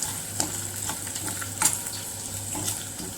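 Spinach with ginger-garlic paste and chopped chilies sizzles and is stirred in a pan, the spoon scraping and clinking a few times over a soft, continuous fry.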